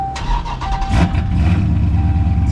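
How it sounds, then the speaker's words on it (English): A car engine cranks over with a few quick starter bursts, then catches and settles into a steady, loud idle rumble close by. "Like right now, if I crank my car up."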